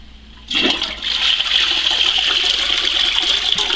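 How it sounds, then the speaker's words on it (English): Toilet flushing at a camp being winterized, the plumbing drained beforehand: a sudden loud rush of water after a quiet moment, then a steady hissing swirl of water draining down, close and alone. "And then I'm actually going to flush this."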